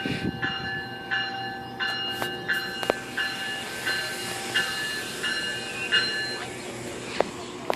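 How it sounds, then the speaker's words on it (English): A GO commuter train of about ten cars passes at Danforth station with a steady rumble, and repeated bright, bell-like tones sound over it. Someone speaks briefly. "Another GO train."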